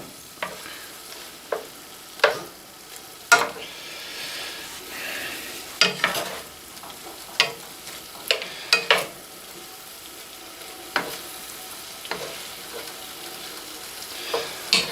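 Beef browning in a pan for stroganoff, a steady soft sizzle broken by frequent sharp clicks and scrapes of a utensil against the pan, heard close up without talk.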